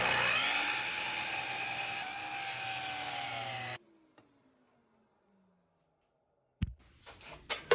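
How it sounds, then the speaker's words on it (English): A miter saw cuts across the edge of a walnut board: a loud, steady broadband whine with a spinning-down tone runs nearly four seconds, stops abruptly into near silence, then a brief clattering burst returns. "because I have my miter saw set up nowadays, is I'm gonna cut these edges perpendicular."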